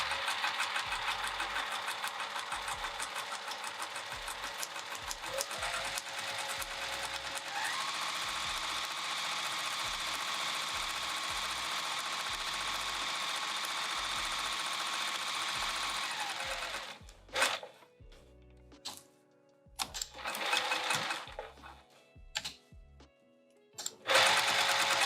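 Sewing machine stitching a bag trimmed with piping, a fast steady mechanical whir running for about seventeen seconds, then stopping and giving way to brief clicks, handling noises and short bursts of stitching.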